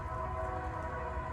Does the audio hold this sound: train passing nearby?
yes